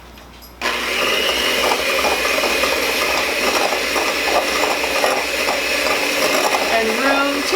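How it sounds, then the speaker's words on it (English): An electric mixer creams butter and sugar in a bowl for pumpkin muffins. It starts abruptly after a brief quiet moment, then whirs in a steady, close, mechanical grind with a rattling edge. "Keep the mixer in the middle of the bowl."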